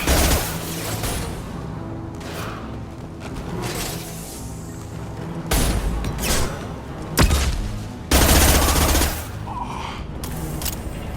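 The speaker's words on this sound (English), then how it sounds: "Firing a high-impact shot." High-impact gunfire in the video game Mass Effect 2, heavy booming shots rising over a constant bed of game sound and music, loud and close.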